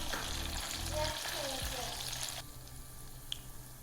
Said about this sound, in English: So I'm just gonna fry these until crispy.